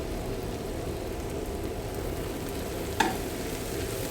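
Vegetables frying in a pan with turmeric, chilli and coriander powder for veg kothu parotta, giving a steady, even sizzle throughout, with one brief sharp clink from a spoon near the end.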